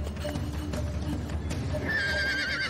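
Horses neigh in a cartoon scene, with clip-clopping hooves and a shrill drawn-out whinny rising near the end over a steady background score, as a wolf pack sneaks up on them.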